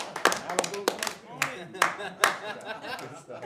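Sparse, scattered hand claps from a small comedy club audience welcoming a comedian to the stage, with several sharper claps standing out and voices murmuring underneath.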